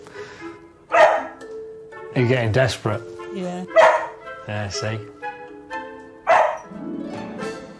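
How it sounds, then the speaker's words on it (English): A dog barks in a few sharp, separate bursts spread across the stretch, fairly close, while people talk in between. "He's barking, right?"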